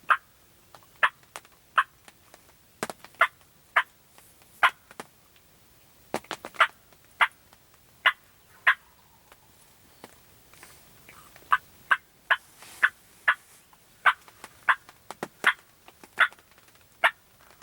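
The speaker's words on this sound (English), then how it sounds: "Turkey to our left's gobbling now on the ground." Wild turkey on the ground gobbling repeatedly, a string of sharp rattling calls at irregular intervals, fairly close and clear against a quiet outdoor background.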